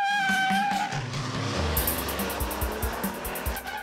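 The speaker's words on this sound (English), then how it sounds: "Along with lots of power is lots of noise, as it works its way to the end of the quarter mile" A 2013 Toyota Tacoma 4x4 with a V6 and automatic transmission accelerates down a quarter-mile drag strip, its engine note rising and then shifting into a lower, rougher roar as it pulls away. It is loud and close, with no talking.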